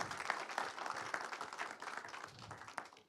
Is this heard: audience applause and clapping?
yes